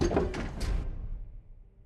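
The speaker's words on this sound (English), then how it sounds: "Watch that door. It slams." A door slams shut once with a short heavy bang that rings briefly and then dies away into quiet.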